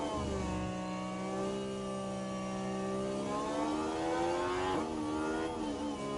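Formula 1 race car engines in the F1 Manager 24 video game rev at high pitch, a strong steady whine that holds and then rises and falls as the cars work through gears, with no voices.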